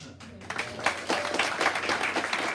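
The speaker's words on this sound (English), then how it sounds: "last round of applause I'm going to get." An audience at a Bright Club comedy night in Guildford applauds, a short burst of clapping that swells and carries on steadily.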